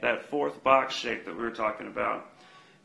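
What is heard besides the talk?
No distinct noise like a dog, phone or traffic.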